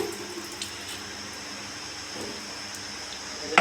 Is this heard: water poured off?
yes